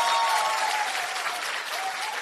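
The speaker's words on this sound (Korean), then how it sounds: "여러분 다시 한번 격려의 큰 박수 보내주시기" An audience at a women's rally claps in a dense, sustained burst of applause that fills the room evenly, loud and close, without noticeable pauses.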